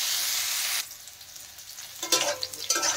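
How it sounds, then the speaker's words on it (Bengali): Cauliflower frying in a pan gives a bright, close sizzle that drops away, then returns with scraping and clattering as the pieces are stirred and turned. "একটু লাল লাল করে ভাজতে হবে ফুলকপি।"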